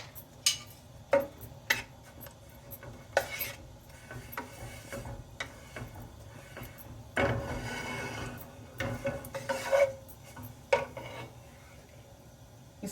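Carrots being grated for gajar burfi in a home kitchen, a run of irregular scraping rasps and clicks, fairly quiet and close, with no talk.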